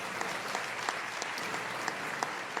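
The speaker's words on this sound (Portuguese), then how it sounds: "aleluia, pode aplaudir" Steady applause from a church audience during a religious testimony, a dense, continuous wash of clapping with a few sharper claps standing out, sustained and even throughout without speech.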